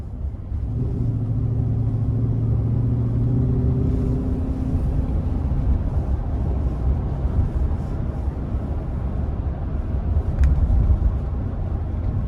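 A 2022 Chevy Express nine-passenger conversion van drives along, its steady engine rumble and road noise loud and continuous from inside the cab, with no talk.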